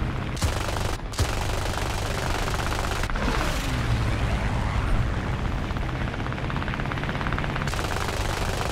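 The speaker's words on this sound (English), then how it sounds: "fire rate's really good on these guns" Fokker D.XXI-3 fighter's machine guns firing in War Thunder air arcade, a dense continuous rattle of rapid fire over steady engine drone, loud and sustained with brief breaks early on.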